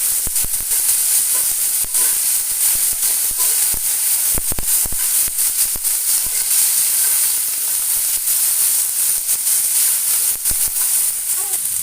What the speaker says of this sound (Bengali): বেশি করে রাখা পেঁয়াজ রসুন সেগুলো দিয়ে দিলাম এটা দিয়ে ভালো করে নেড়ে ফেললাম